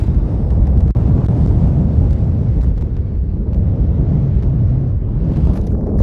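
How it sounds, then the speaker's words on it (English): Strong wind on a mountain peak in Guadalupe Mountains National Park roars and buffets a microphone continuously, a dense low rumble with gusting surges and no voices. "It is super windy"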